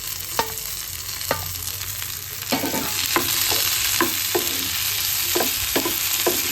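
Tomatoes and pepper sizzle in a pan for a liver pepper fry, a continuous frying hiss punctuated by regular spatula knocks and stirs against the pan, with no talking.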